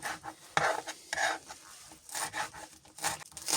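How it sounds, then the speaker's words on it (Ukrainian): A knife finely chops washed green onions and parsley, producing quick irregular bursts of close, scraping cuts with short pauses between them and no talking. "Цибульку зелену із петрушкою помили, просушили і беремо, ріжемо дрібненько."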